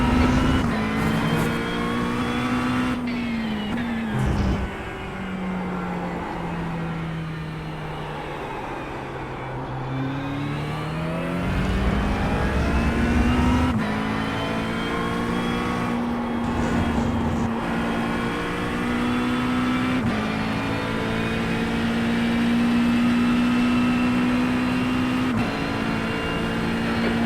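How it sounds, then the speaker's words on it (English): A McLaren 720S GT3 race car approaches in iRacing at MotorLand Aragón, its loud engine droning steadily, the pitch dipping and climbing with gear changes and throttle as it closes in throughout. "There's a faster car approaching."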